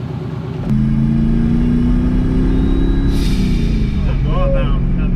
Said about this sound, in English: That blow valve. Oh, we have a blow valve now.